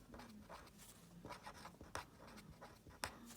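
Handwriting a sentence with a pen or pencil on paper: faint, close scratchy strokes in uneven bursts and pauses, with no talking.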